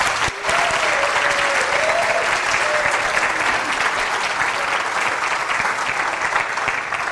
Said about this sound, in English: Please, a big applause for Pi Ladies,